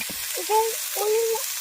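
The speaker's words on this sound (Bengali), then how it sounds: "এবার আমি কেটে রাখা পাতাগুলো এর মধ্যে দিয়ে দেবো" Cut bitter gourd leaves added to potatoes and onions frying in a pan, giving a steady loud sizzle with soft stirring, and a voice speaking quietly beneath it.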